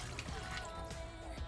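A cup of water poured over a beef freezer meal in a crockpot, a soft steady trickle and splash close by, low and even throughout.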